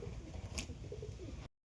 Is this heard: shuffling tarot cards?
no